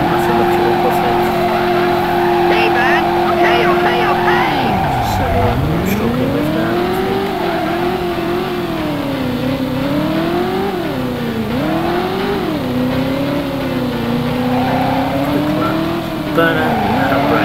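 Car engine revving with screeching tire squeals in the Driver video game, a loud sustained roar whose pitch dips sharply then climbs and wavers through repeated skids and accelerations.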